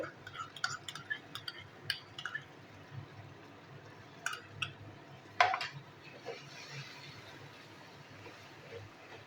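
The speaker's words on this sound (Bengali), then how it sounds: "টমেটোর সাথে সমস্ত মশলা আমি কষিয়ে নিচ্ছি" Spices and tomato paste are sautéed with chickpeas in a pot. Scattered clinks and scrapes of a spoon against the metal sound over a faint, wet bubbling. The sound is quiet and close, with no talking.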